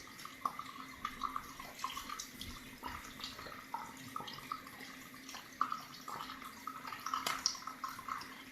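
Tap water runs steadily at a sink while someone washes their face, a continuous moderate splashing with small drips and dabbling hand sounds scattered throughout.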